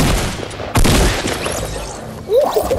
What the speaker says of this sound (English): Oh my god, he's got a rocket launcher.